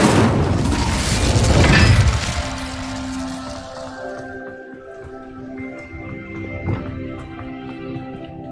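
The Incendio fire spell is cast in Hogwarts Legacy, bursting out as a heavy, roaring blast that fades into a long, ringing tail of crackles and clanks.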